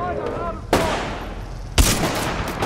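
Two sharp, loud gun blasts in Titanfall 2 about a second apart, each cutting in abruptly over a noisy background and leaving a lingering crackle afterward.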